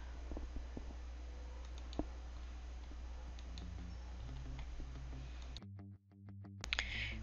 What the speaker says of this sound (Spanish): Y aquí le damos clic en ingresar.